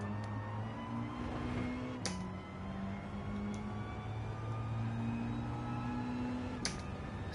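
Engine of a Mercedes 190E Evo driven in a racing video game, a steady droning hum at constant revs with faint higher whine, carrying on evenly throughout with brief clicks and no speech.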